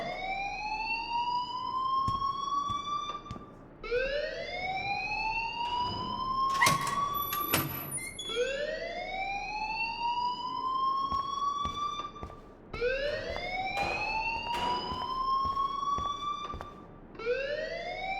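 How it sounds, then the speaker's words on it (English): A fire alarm rings in the Life is Strange video game, repeating rising electronic whoops in a steady cycle, with brief clanking sounds in between. "please turn off that alarm since that's your job"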